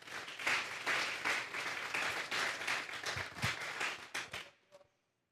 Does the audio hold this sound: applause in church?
yes